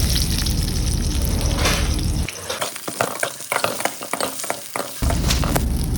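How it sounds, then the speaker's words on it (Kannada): Two medium chopped onions frying in oil in a kadai, a loud dense sizzle with a stirring break of clattering scrapes in the middle before the steady frying returns. "ಅದಕ್ಕೆ 2 ಮೀಡಿಯಮ್ ಸೈಜ್ ಈರುಳ್ಳಿ ಕಟ್ ಮಾಡಿ ಫ್ರೈ ಮಾಡ್ಕೊಳ್ತೀನಿ ಮೊದಲಿಗೆ"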